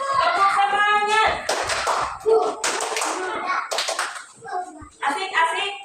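A class of children in a group lesson chant the tepuk semangat clapping routine, voices shouting in rhythm between bursts of sharp unison hand claps.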